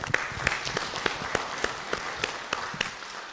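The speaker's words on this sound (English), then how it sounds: "I'd like us to have just one big round of applause for everyone who has shared their ideas here" An audience applauding at a university consultative forum in a hall, steady mid-level clapping with distinct individual claps standing out in an uneven rhythm throughout.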